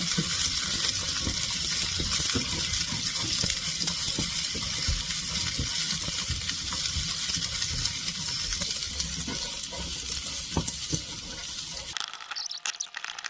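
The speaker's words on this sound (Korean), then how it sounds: "양파가 마늘과 전복이 골고루 섞일 수 있게 이렇게 섞어줍니다" Abalone stir-fries with onion and garlic in a hot pan, giving a steady close sizzle that runs evenly and then cuts off abruptly near the end.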